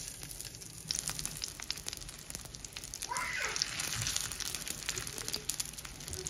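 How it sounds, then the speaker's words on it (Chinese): Pumpkin cakes fry in oil on an electric griddle, giving a soft, steady crackle and sizzle that swells briefly partway through. No speech is heard. "咱现在开始电饼铛里头加油，开始煎。"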